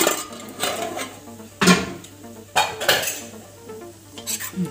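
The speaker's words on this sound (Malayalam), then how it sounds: "നമുക്ക് നമ്മുടെ കുക്കറൊന്ന് തുറന്ന് നോക്കി നോക്കാം" Pot lid and cookware clatter while Kerala-style clam meat roast is being cooked: a steel pressure cooker lid being opened, with several sharp metallic clanks and scrapes spaced across a few seconds, close and fairly loud, over a steady low hum.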